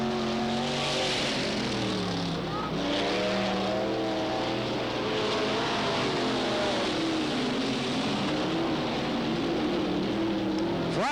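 Race cars at Cottage Grove Speedway roaring around the oval during the 1991 Fall Classic, several engines rising and falling in pitch as they pass, loud and continuous.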